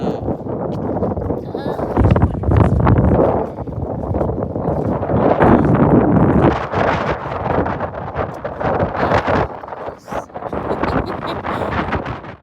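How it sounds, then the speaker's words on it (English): Wind blowing hard across the beach at Diani Beach in Kenya, a loud, close roar buffeting the microphone almost continuously, with people talking underneath it. "that wind was blowing, so you could barely hear him"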